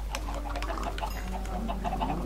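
Several chickens cluck in the video game Minecraft, a busy overlapping chatter of short calls over a steady low hum, fairly close and without speech.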